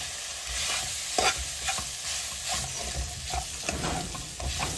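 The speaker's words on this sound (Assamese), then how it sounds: "এতিয়া অকণমান তেল ওলোৱালৈকে ধুনীয়াকৈ ভাজি থাকিম" Pork curry masala for an Assamese pork curry fries in oil, giving a continuous close sizzle broken by repeated scraping and stirring strokes, with no talking.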